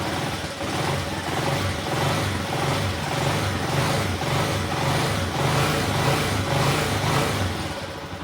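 A Honda TMX 125 Alpha motorcycle engine running steadily and revving in a rhythmic, pulsing way, close and loud throughout with no talking.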